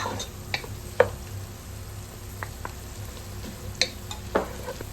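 Mild green chillies fry in a pan for a creamy pasta, giving a steady, soft sizzle with a few sharp clicks and scrapes of stirring scattered through.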